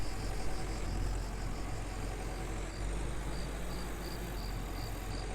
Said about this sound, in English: I might as well drive this tractor back.